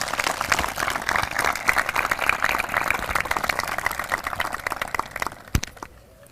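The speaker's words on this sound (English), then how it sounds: "please give them a round of applause." A crowd at a high school graduation applauds parents, guardians and grandparents, a dense wash of many clapping hands that holds steady for several seconds and then fades out.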